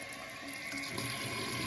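Water rushes steadily into a toilet tank through a newly fitted fill valve, a soft continuous hiss and splash heard close and alone.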